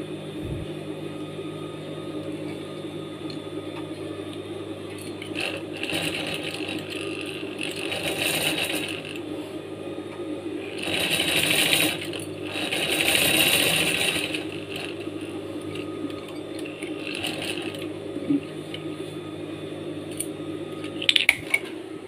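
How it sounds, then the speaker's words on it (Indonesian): Sewing machine stitching a vest pocket, a steady mechanical whir with faint ticks and rattles, rising in louder bursts as it runs, with a few small clinks near the end. "Kemudian kita jahit."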